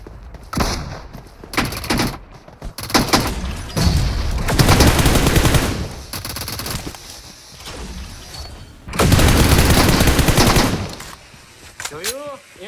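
Heavy weapon fire in a shooting video game: repeated loud booming bursts and rapid gunfire blasts in dense clusters, with thuds in between and short quieter gaps.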